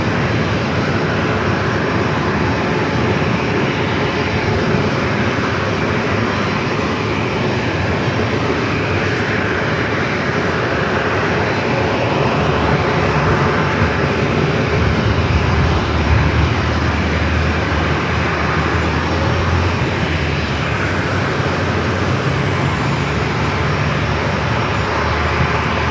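An airliner departing San Diego airport for Portland roars loudly and continuously, the jet noise swelling slightly toward the middle before holding steady.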